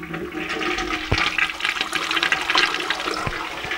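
A campsite toilet flushes with a loud rushing gush of water, close by, filling the whole few seconds with sharp splashing bursts and no talk.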